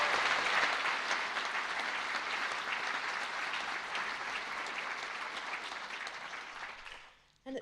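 Audience applause at a winter university graduation ceremony, thanking a string quartet: dense, sustained clapping from a large hall crowd lasting about seven seconds, then tapering off abruptly.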